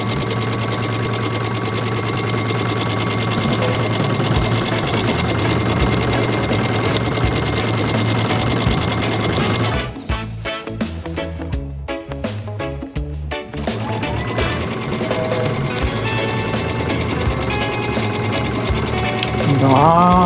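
A sewing machine top stitches a beginner's stylish bag with a loud, continuous mechanical whir close by, briefly easing and stuttering midway as the fabric pivots, then running steadily again.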